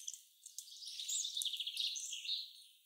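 Wild birds, among them a goldfinch, call and twitter at a winter feeder: a run of quick, bright, high chirps and trills that are close and clear over a silent background.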